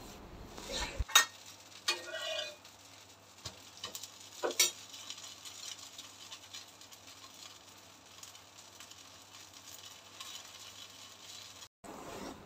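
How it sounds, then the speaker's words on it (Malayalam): A dosa sizzles softly and steadily on a hot tawa griddle, a low frying hiss running throughout, with a few brief clinks of utensils near the start. "ഞാൻ ദോശ ഇപ്പം 2 തവ വെച്ചിട്ട് പെട്ടെന്ന് അങ്ങ് ഉണ്ടാക്കുന്നുണ്ട്"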